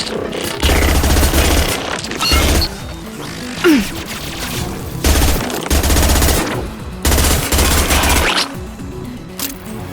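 Rapid automatic gunfire from a weapon in the video game Mass Effect, loud bursts of several seconds each separated by short pauses, with faint game sound effects between volleys.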